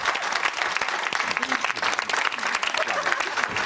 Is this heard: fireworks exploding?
no